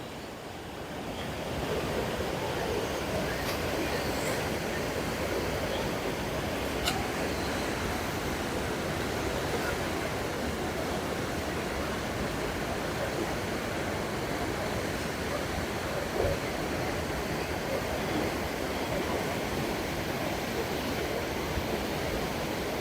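A waterfall near Nanded in Maharashtra roars in a steady, unbroken rush of falling water, loud and close, with some wind buffeting and no voices.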